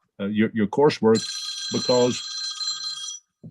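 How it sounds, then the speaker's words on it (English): An old-fashioned telephone ringtone trills in a steady bright ring for over a second, starting mid-sentence as someone talks, with more speech briefly overlapping before it stops. "You can tell I'm old fashioned with that ringtone, can't you?"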